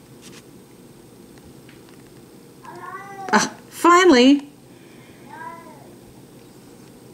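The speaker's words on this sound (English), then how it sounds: "That's my cat, so." A pet cat meows in the background, a few drawn-out harmonic cries and a couple of fainter ones near the end, heard under a person talking nearby.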